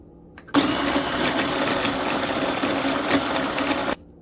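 Electric blender whirring steadily as it chops ginger for Carolina reaper hot sauce, a loud continuous motor drone that starts abruptly, holds for about three and a half seconds with slight load changes, then cuts off.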